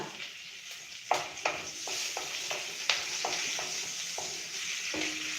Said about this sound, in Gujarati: હવે એમાં નાખીશું આપણે 1 લીલું મરચું, લીમડાના પાન